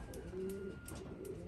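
Racing pigeons cooing softly inside a loft, low murmuring coos repeating steadily with faint background rustle, fairly quiet and close.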